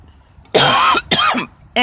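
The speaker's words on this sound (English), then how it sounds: "Excuse me for coughing." Two loud, harsh coughs a moment apart after a short quiet stretch, with the start of a third right at the end.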